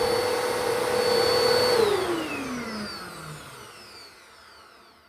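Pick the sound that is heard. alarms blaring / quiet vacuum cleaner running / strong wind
quiet vacuum cleaner running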